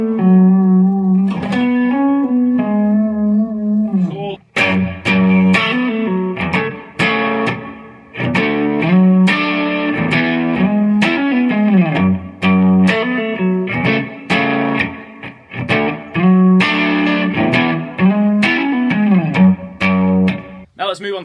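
A riff played slowly on a distorted electric guitar, with chordal hammer-ons, bends and sliding double-stops ringing out in a steady, loud phrase with brief gaps, alone without talk.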